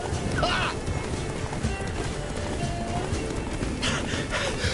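Horse galloping in The Witcher video game, rapid hoofbeats pounding steadily under music and game sound, with a rider's voice heard over the action.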